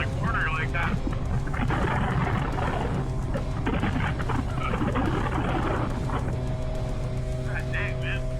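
Heavy, steady wind roars across the rider's microphone on a moving Yamaha MT-09 motorcycle, with the engine droning beneath it throughout.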